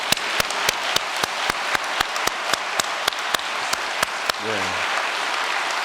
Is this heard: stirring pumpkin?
no